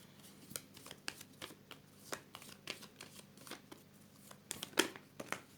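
A tarot card is drawn from a deck, making soft, close card rustles and papery flicks in a quiet room, with scattered light taps and no speech.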